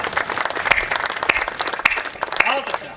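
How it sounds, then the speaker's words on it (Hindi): A Hindi comedy poetry show (hasya kavi sammelan) audience claps in brisk, uneven bursts with a few sharp, loud hand strikes, and a voice speaks over the applause near the end. "अब तालियां होनी चाहिए"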